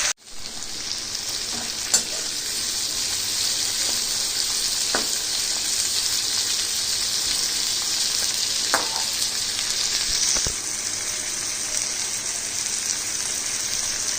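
Chopped onion fries in a pan while butter mushroom is being cooked, giving a loud, continuous sizzle with a few sharp clicks of a utensil scraping and stirring, and no talking.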